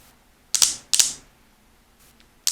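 Plastic ratcheting clicks from the adjustable stand of a Husky 1000-lumen LED utility light, three sharp close clicks in quick succession with a pause before the last, no talking.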